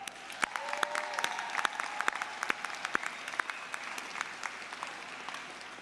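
An audience applauds the band at the 2022 Pelotonia Night of Impact fundraising event, with sparse, moderately quiet clapping and individual claps standing out, mixed with faint murmurs from the room.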